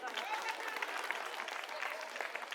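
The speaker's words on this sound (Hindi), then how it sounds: "इसके लिए ताली बजा दो" A crowd at an outdoor political election rally claps in a continuous, even wash of applause, heard faint and distant with voices mixed in.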